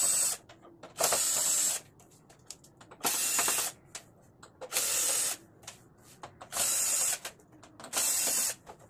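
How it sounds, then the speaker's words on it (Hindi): An electric screwdriver unscrewing the screws that hold a 32-inch LED TV's backlight panel, six whirring bursts of about a second each, separated by quiet gaps with faint handling clicks, close by. "तो बैकलाइट को निकालने के लिए हम सभी स्क्रू को ओपन करेंगे।"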